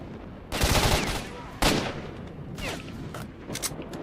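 A pistol fires in S.T.A.L.K.E.R.: Shadow of Chornobyl, rapid loud shots in a short burst, followed by a second sharp blast and a few fainter scattered shots trailing off.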